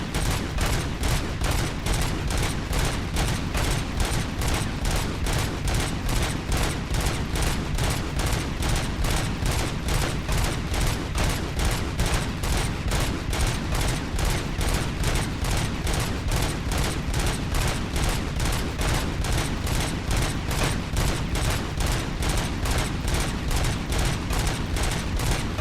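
Sustained automatic gunfire from a full-auto weapon in the RoboCop: Rogue City video game, a rapid, steady stream of loud shots with an even rhythm running the whole time without a break.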